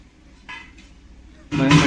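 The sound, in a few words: pot of potato curry being covered with a lid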